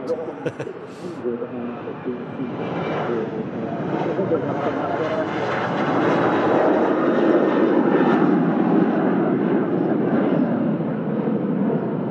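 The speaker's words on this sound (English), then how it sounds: "The Airbus A350 still holding there." Airbus A350 airliner holding at Manchester Airport, its engine roar swelling steadily and loud, with people talking over it.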